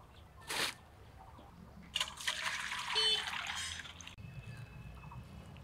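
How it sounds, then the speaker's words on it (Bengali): Water pours into a basin in a few short splashes followed by a longer gurgling run of filling, fairly quiet and close. "আঁশগুলো ফেলে দিয়ে গামলাতে জল নিয়ে নিব,"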